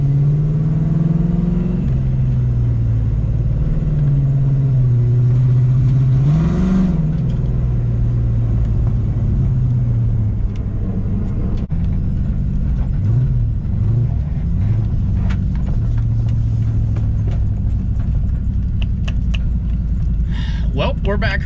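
A car that had been sitting for two years drives steadily, its engine rumbling loud and close with shifting pitch as it revs and settles, and voices talk over the road and motor noise throughout.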